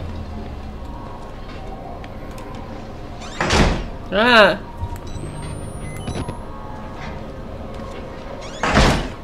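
A door slamming shut in the horror game Outlast, a loud broadband thud around four seconds with another heavy bang near the end, over a low ambient drone and a brief startled vocal exclamation.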